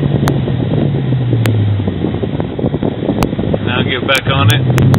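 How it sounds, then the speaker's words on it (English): Deep, steady exhaust rumble of a 2009 Dodge Challenger R/T six-speed fitted with Kooks headers under throttle, heard from inside the car with wind noise and someone talking over it. "This is what it sounds like. Under throttle right now."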